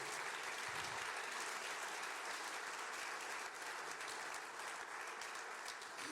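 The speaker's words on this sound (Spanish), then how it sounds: "Yo le daría un aplauso al Señor por eso." A church congregation applauding during a sermon, a dense, steady wash of many hands clapping at once, fairly distant and even throughout, with no voices rising above it.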